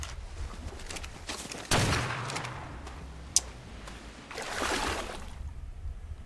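Gunshots in the modded ARK Survival Evolved video game, fired toward a target in the water from the shore, a few scattered reports with one sharp crack, over a washing, watery background.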